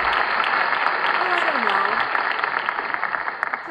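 Applause for an entertainer, a steady wash of clapping with a brief voice rising and falling over it midway, tapering slightly toward the end.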